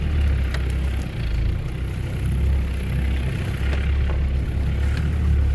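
A Land Rover 300Tdi diesel engine runs off-road, a steady low drone at idle and low throttle that holds close and loud throughout, with no talk over it.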